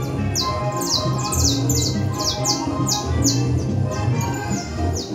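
Criollo canary singing in a cockfighting-style setting, with repeated bright, rapid chirping phrases and trills over a continuous din of background crowd noise and clatter.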